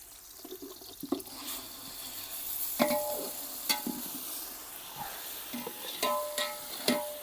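Ground masala paste for mushroom biryani is scraped into a pan with soft sizzling and several sharp utensil clinks, plus some watery stirring, close and moderately quiet.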